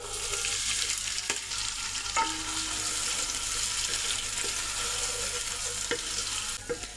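Thinly sliced onions fry in oil with cinnamon, cloves, bay leaf and peppercorns for a prawn biryani, giving a steady close sizzle broken by a few stirring clinks and scrapes, with no talking.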